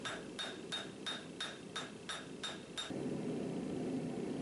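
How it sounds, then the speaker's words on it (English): A hammer flattens a forged tomahawk blade made from a farrier's rasp, ringing with eight evenly spaced metallic strikes before a steady hum takes over. "I use my other hammer just to flatten everything out"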